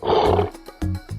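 A lion roars in a short, loud burst, a low rumbling growl that breaks off and returns twice more in shorter pulses, heard alone.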